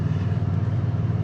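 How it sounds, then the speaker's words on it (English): A 2024 Toyota Tundra TRD Pro hybrid is towing and downshifting, producing a loud, close, steady low drone with slight pulsing over a very short stretch. "So it is downshifting and using the brakes."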